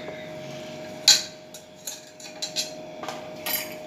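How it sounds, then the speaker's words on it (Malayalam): A spoon clinks and scrapes against a vessel while orange payasam is mixed, giving a few sharp, close metallic ticks spaced irregularly over a quiet room background. "എന്നിട്ട് നല്ലപോലെ ഞങ്ങൾ മിക്സ് ചെയ്തെടുക്കണം"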